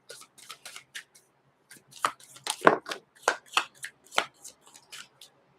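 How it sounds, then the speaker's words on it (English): Deck of cards being shuffled up close, a series of crisp riffling bursts and sharp snaps in an irregular rhythm, with quiet gaps between, alone without talking. "Okay, one more shuffle."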